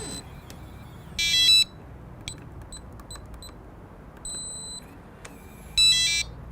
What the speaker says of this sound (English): Long confirmation beep